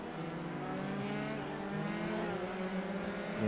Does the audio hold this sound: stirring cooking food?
no